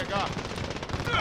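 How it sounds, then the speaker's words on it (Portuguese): Enemy machine-gun fire rattles in rapid, continuous bursts in Modern Warfare, loud and close throughout. "Acho que é tiro. Tiro inimigo, hein?"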